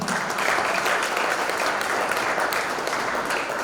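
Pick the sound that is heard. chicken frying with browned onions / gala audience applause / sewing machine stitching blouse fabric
gala audience applause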